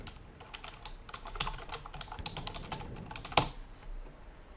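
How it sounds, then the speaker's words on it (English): Rapid, uneven keystrokes clatter on a computer keyboard as an email address is entered, with one sharper key strike near the end, close and fairly quiet with no talking. "I'm typing here my friend's PayPal account email address here"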